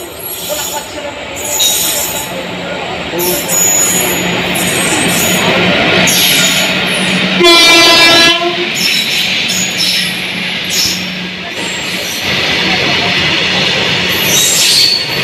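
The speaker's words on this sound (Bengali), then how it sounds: "অনেকক্ষণ পরে একটা মালগাড়ি যাচ্ছে" A freight train rolls past a station at night, a loud steady rumble of wheels and rail noise lasting throughout, with a brief harmonic horn-like tone near the middle.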